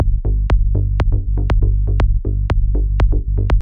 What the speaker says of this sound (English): So the low end in question sounds like this.